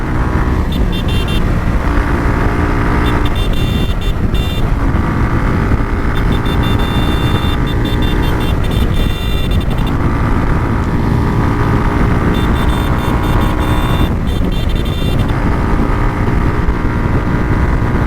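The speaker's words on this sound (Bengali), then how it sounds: "বাইক একশোর নিচে নামেই না গাইস একশো দশ এগারো সব সময়" A Suzuki Gixxer motorcycle runs flat out at over 100 km/h on an open road, with loud continuous engine drone and heavy wind rush that swells and dips in waves.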